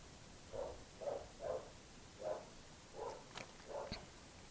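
A dog barks about six times at a steady, unhurried pace, each bark muffled and moderately distant over a quiet background hiss.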